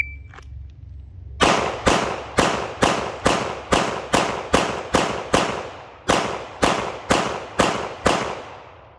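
Dan Wesson DWX Compact pistol fired at about 7 yards, sharp loud gunshots in a steady string of about thirteen, evenly spaced with one brief pause midway, close and alone.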